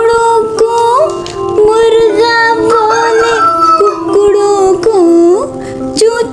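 A wolf howl is voiced within a Hindi nursery rhyme about animal sounds, a loud, wavering tonal cry over a bright musical backing, most likely sung by a voice imitating the howl.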